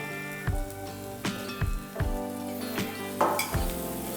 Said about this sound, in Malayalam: തക്കാളി ചേർത്ത് നന്നായിട്ട് ഇതെല്ലാം വഴറ്റിയെടുക്കണം.